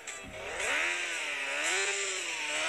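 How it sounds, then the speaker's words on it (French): Motorcycle in the Turbo Dismount game revving with a buzzy, rising and falling engine whine, loud and continuous throughout with no talking. "Ok, donc c'est la moto."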